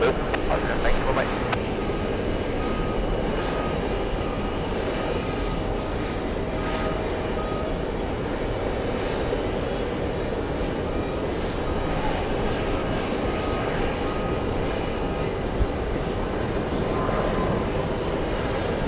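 Jet aircraft engines, Boeing 747s taxiing at JFK airport, a steady distant whine and rumble that holds evenly throughout with no clear rise or fade.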